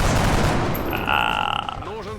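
Rifle fire in the video game XCOM Long War, heard as a burst of sharp cracks over loud, busy game sound with a sustained tone in the middle and voices nearby.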